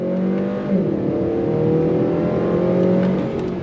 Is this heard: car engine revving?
yes